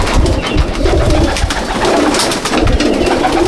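Pigeons coo repeatedly at a loft, close and clear, their soft throaty calls rising and falling in rhythmic bursts over several seconds.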